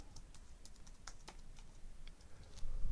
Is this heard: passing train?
no